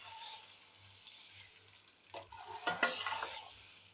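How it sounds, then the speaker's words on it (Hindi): Chicken korma masala with boiled potatoes stirred in a pot, faint at first, then a short burst of wet scraping and clinking of a spoon against metal near the end, without speech. "तो मिक्स करेंगे ताकि इसके ऊपर सारा मसाला अच्छे से लग जाए"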